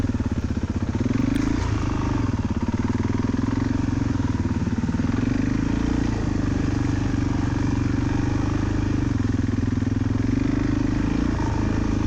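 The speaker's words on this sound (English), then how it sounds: "You can tell the bike's starting to idle a little high" A Suzuki DRZ dirt bike engine idles fast and steady as it warms up, a loud, close, rapid putter with a droning hum that holds level throughout.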